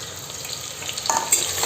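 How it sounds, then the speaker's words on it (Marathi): Onions frying in oil for a mutton curry give a steady, close, bright sizzle that holds throughout, with a couple of small clinks from stirring near the end. "मी पहिले कांदे टाकते हे, आणि हे कांदे चांगले परतू द्यायचे"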